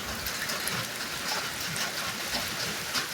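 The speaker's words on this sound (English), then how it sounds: "Man, it's raining." Rain falls at a backyard 4th of July barbecue, a steady, even hiss of drops on surfaces with no voices.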